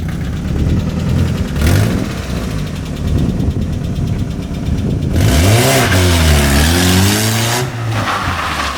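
A Mazda Miata engine revs hard during a handbrake drift test, its pitch climbing and swooping through several loud, close runs over a steady rumble.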